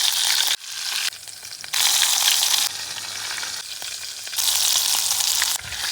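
Chicken frying in hot oil at a solo treetop campsite, loud crackling sizzle that surges and drops in bursts as the pieces are moved, with no talk.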